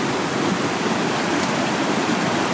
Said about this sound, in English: this is like a river slash creek